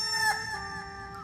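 A voice imitating chicken noises, a continuous clucking, crowing-like call with strong harmonics, loud and close, lasting just over a second with no other sound around it.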